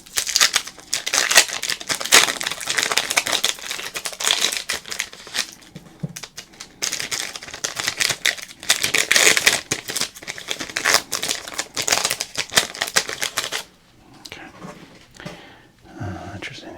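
Baseball card pack wrappers crinkle and crumple in long, dense bursts, loud and close, with a short quieter pause near the middle and softer handling toward the end.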